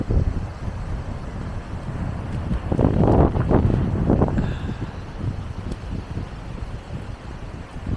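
Wind gusting outdoors on an exposed height, rumbling against the microphone in a steady low roar that swells briefly louder midway before settling back.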